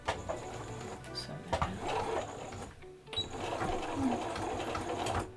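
A sewing machine back-stitching over the pleats of a waterproof reusable face mask, a close, rapid mechanical whir that runs in bursts with a short pause near the middle, no talking.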